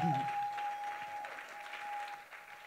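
A church congregation clapping together in praise, a dense wash of applause that fades slightly over a couple of seconds, with a brief voice at the start.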